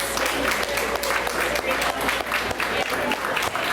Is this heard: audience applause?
yes